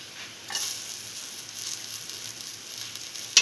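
Ginger sizzles and spits in a hot pan, a steady hiss that rises into loud frying after a moment and keeps going, with a faint clink near the end.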